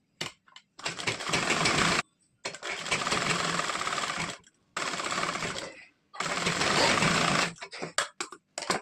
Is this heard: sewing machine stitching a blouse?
yes